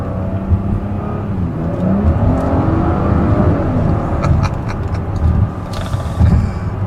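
A 2017 Lincoln MKZ with the 3.0 twin-turbo engine and AWD heard from inside while driving, a steady low engine drone and road roar with light whirring, fairly loud and continuous.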